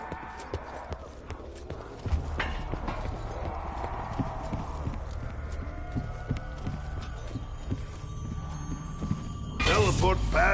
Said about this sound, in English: Your horse makes me mad